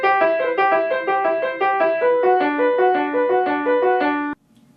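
Piano playing a repeated practice chord pattern, clear broken-chord notes cycling in a steady rhythm for about four seconds before stopping abruptly, with no voice over it.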